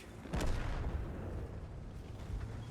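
A single deep boom from an AMX 50 Foch B tank destroyer's gun in World of Tanks bursts out early, then a low rumbling tail lingers under steady background noise.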